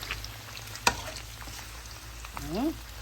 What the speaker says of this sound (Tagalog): Naluluto sa sariling mantika